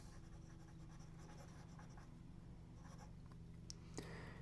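A fountain pen with an 18 karat gold medium nib writes wet with a Wearing All ink, giving a faint, steady scratch on paper close by, with a couple of soft taps near the end.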